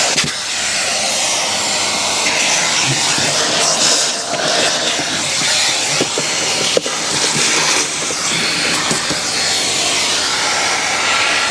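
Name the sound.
vacuuming car interior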